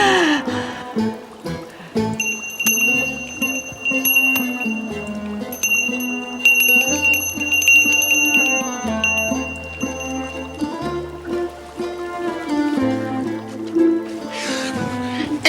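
A bell rung repeatedly with bright sustained ringing tones over background music, loud and close, no talk.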